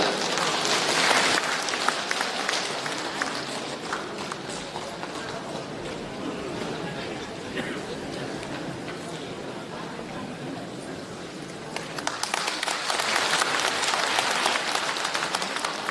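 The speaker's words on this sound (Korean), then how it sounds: "박수로 모시겠습니다." An audience at a Korean school alumni gathering in Andong claps loudly at the start, the sound settles into a lower murmur of crowd noise, and then a second strong burst of applause rises near the end.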